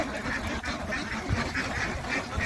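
Ducks on a farm pond quack repeatedly in a busy, overlapping chorus, close and fairly loud over a steady outdoor background, with no talking.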